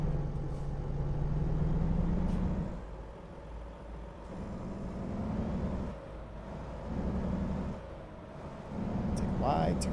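Heavy truck in a driving video game rumbling along, its engine swelling and dropping in repeated cycles with hissing air-brake bursts between, loud and close throughout.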